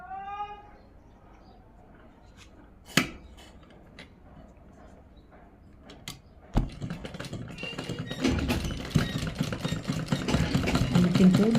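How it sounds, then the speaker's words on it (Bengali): A sewing machine stitching over lace runs steadily and close by from about the midpoint, a dense mechanical whir following a few scattered clicks and taps in the quieter opening. "আমি কিন্তু লেসের উপর দিয়ে সেলাই দিয়ে নিচ্ছি।"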